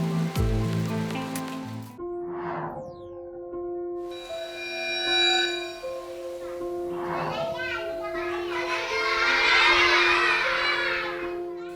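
Steady heavy rain hisses and swells in the background while children talk and shout nearby in a flood-prone school classroom, with a tonal hum running throughout.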